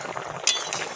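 Metal pot lid lifted off a cooking pot of boiled taro and Malabar spinach, one bright clink midway over a soft steady background, no talk.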